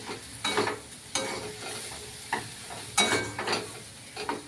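Drumstick leaves are stirred and fried in a pan, giving a steady sizzle with repeated scraping strokes at an uneven rhythm, close and clear with no talking.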